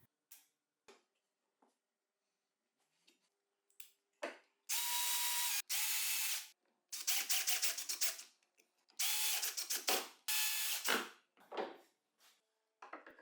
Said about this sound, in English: now I'll cut the slider out of a piece of HPL